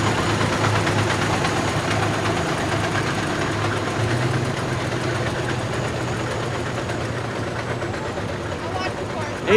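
A farm tractor engine idles in a Fourth of July parade in La Porte, Indiana, its steady low rumble continuing throughout beneath people talking nearby.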